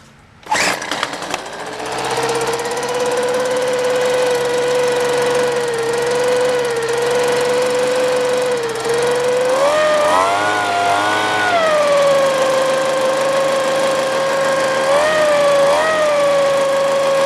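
Sears leaf blower vacuum's small gas engine catches after a brief pull and settles into a steady loud buzzing idle close by, its pitch wavering and rising slightly partway through.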